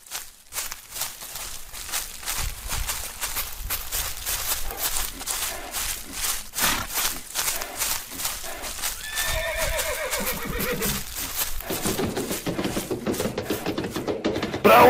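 Several horses whinny and neigh loudly in a Western chase scene, with clip-clop hooves and rustling movement running throughout, close and busy.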